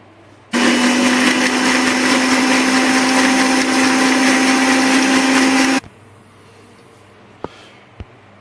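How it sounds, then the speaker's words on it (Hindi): An electric blender whirs sugar and water for falsa sharbat, a loud steady high-pitched motor roar lasting about five seconds that cuts off abruptly, followed by a couple of light clicks. "इसको फिर ब्लेंडर को ऑन करेंगे और ब्लेंड करेंगे"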